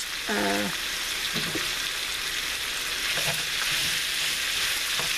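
One pound of bacon sizzles and fries steadily in a pan, a loud, continuous crackling hiss close by, with a brief voice near the start.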